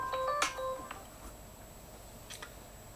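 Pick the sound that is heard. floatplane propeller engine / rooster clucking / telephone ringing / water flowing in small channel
telephone ringing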